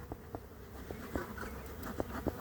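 Honey bees buzzing softly around an open hive as they are moved from nucs into full hives, a faint steady hum with a few louder passes close by.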